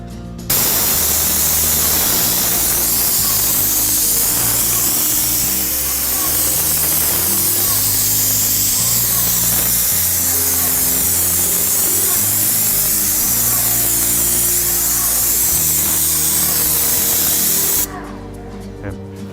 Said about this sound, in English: spray the 30 mil continuous membrane with a minimum lap back up on 3 inches onto the membrane